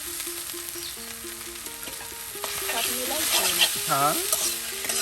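Leafy greens frying in an oily pan with onion, garlic and chili, a close sizzle and stirring scrape under background music, with a brief spoken word.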